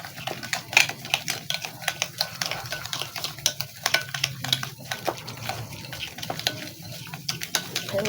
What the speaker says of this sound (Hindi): और अब हम इसको अच्छी तरह से फेंटेंगे, मिक्स करेंगे अच्छी तरह से।